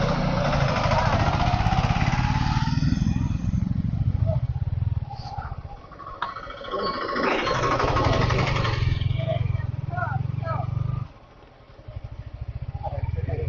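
A motorcycle engine runs steadily close by during a road trip along the ECR to Mahabalipuram, with voices talking over it; the engine note dips briefly near the end before returning.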